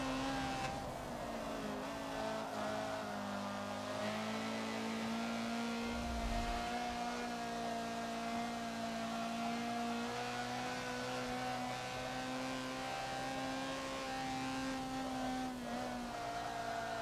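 A Honda CRX laps the Dubai Mountain track in the racing video game Forza, its engine holding a steady, moderately loud drone with slight pitch shifts through braking and a wide corner exit.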